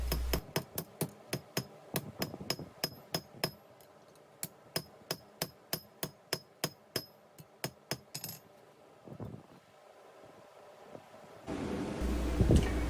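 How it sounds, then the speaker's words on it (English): A blacksmith hammers hot metal while forging a Russian rose, steady ringing hammer blows striking in quick rhythm with metallic clinks, then pausing into a rushing forge or blower noise, close and loud. "Hammer out the junction a little bit and then start to draw out the metal of that'll become the rose petals by using the peen"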